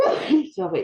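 A single sharp sneeze bursts out near the microphone in an online meeting, followed immediately by a brief spoken apology.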